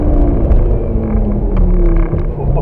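A Lamborghini powering out of a turn on a race track, its engine a loud, continuous droning roar that climbs in pitch while accelerating, heard from inside the car.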